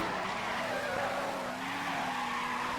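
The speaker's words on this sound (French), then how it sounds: "Là, je fais du drift en clair." A car drifts in the video game Car Crusher 2, its tires squealing in a sustained loud skid over a steady engine drone, with no one speaking.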